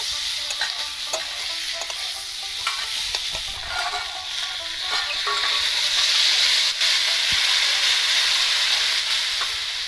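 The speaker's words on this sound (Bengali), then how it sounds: "স্বাদ মতো নুন দিয়ে ভালো করে নাড়িয়ে চাড়িয়ে এর মধ্যে জল ঢেলে দেবো" Water is poured into a salted, spiced rohu fish curry in a pan. Close, continuous frying hiss swells midway under occasional stirring scrapes and clinks, with no voices.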